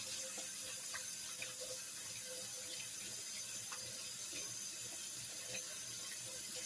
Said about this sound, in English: All right, I'm going to wash my hands.